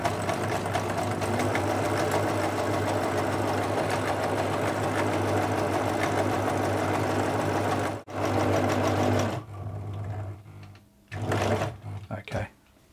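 A 1980s Singer Futura 2002 electronic sewing machine running steadily at close range with a continuous hum and rapid stitching clatter, then stopping and restarting in brief bursts near the end.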